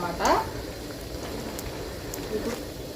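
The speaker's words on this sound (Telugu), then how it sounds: "ఎగ్ బజ్జీలకి ఎప్పుడు కూడా లో ముందు హై ఫ్లేమ్లో పెట్టుకొని తర్వాత లో ఫ్లేమ్లో పెట్టుకొని వేపుకోవాలండి" Half-egg bajji in batter fry in hot oil in a kadai, a soft, steady bubbling sizzle that stays fairly faint, with a brief louder crackle near the start.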